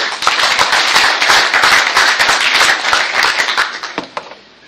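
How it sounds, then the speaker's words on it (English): A crowd claps in a dense burst of applause that rings out steadily, then thins and dies away at the end. "Give Kevin a big round of applause"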